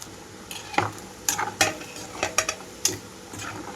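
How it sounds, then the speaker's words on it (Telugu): Chicken pieces fried in oil over a medium flame for pickle, a quiet steady sizzle broken by several sharp scrapes and clatters of a spoon stirring in the pan, with no talking. "అప్పటి వరకు ఇలా మీడియం ఫ్లేమ్లోనే ఉంచి వేయించుకోవాలి"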